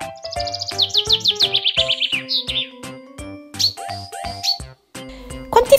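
A person imitates a chaffinch call, voicing a quick run of bright chirps that slows into separate whistled notes, close and loud, with a short sound at the end.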